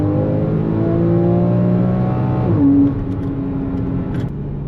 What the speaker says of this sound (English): This is the coldest, the coldest startup of a Porsche.